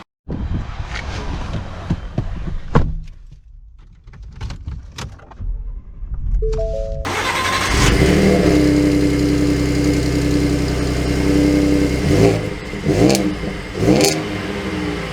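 A Ford F-150 pickup's 3.3-liter V6 engine cranks and catches, then settles into a steady idle with a few revs, preceded by clunks and jangling keys nearby.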